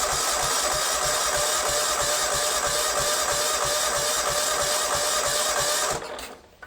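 A John Deere lawnmower engine being converted into a racing mower runs during a test, a steady close buzzing idle with an even rapid pulse that holds for about six seconds and then cuts out.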